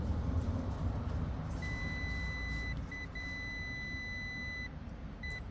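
A multimeter continuity tester's sustained electronic tone beeps on for about a second, briefly cuts out, then holds steady again before a short final beep, over a low background hum.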